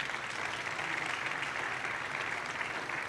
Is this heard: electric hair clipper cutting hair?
no